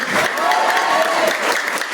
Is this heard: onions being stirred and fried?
no